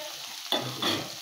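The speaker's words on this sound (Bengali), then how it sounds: "এবার পেঁয়াজ কাঁচা লঙ্কাটা এর ভেতরে দিয়ে দেবো।" Onion and green chilies are dropped into hot fish oil and stirred, bringing a sudden close sizzle that rises again with a second stir.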